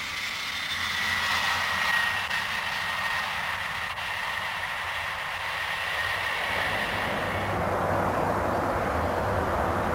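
Steady loud roar of an American airborne early warning radar aircraft in flight, a broad continuous drone that swells slightly in the final seconds, with no voices.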